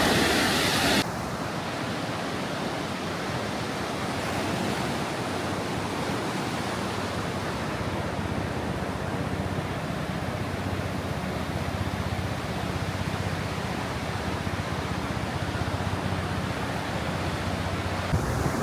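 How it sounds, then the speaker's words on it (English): Ocean surf washes steadily onto a Pacific beach in San Diego, California, a broad continuous roar of small waves with wind noise over the microphone and no voices. "these waves don't seem very big"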